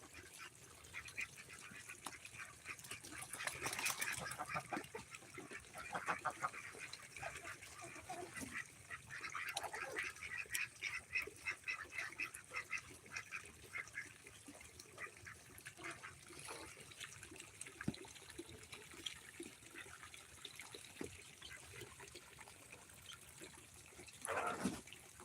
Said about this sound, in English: these are our ducks cleaning out their water